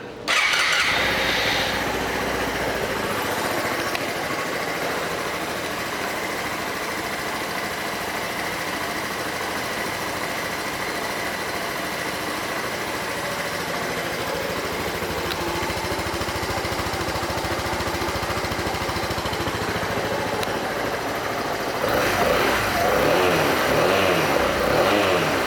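A 2017 Suzuki Van Van 200 motorcycle starts up and settles into a steady, loud idle that runs close by with no talking, revving slightly near the end.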